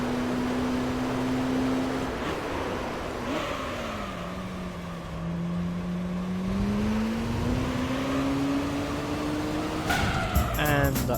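A Chevy Corvette Z06 in the Gran Turismo 3 racing game, on a Seattle hairpin course, with an engine note that dips and rises under loud broadband tire noise, then a sharp burst of squealing near the end; no voices.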